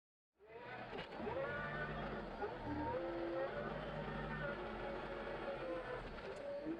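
A small tractor's engine digging a swale behind a pond runs with a steady, droning, slightly fluctuating growl at moderate distance, continuous after starting, with no talk.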